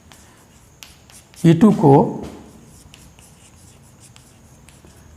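A marker squeaks across a board in a few quick strokes while someone speaks Hindi, with faint tapping before and after.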